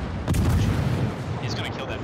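Battleship shells from a naval game fire with a deep booming blast and then land as heavy, dense rumbling impacts. The sound is loud and continuous.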